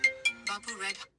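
Phone ringtone ringing inside a Kia Seltos on a road trip, a close, clear melodic tune of several rising and falling notes that stops abruptly.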